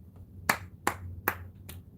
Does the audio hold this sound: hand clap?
yes